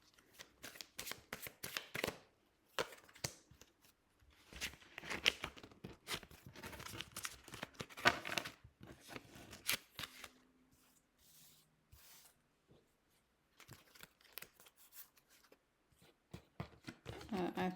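A deck of coaching cards is handled and shuffled in a quiet room, giving bursts of riffling and flicking with short pauses between them, close and fairly soft.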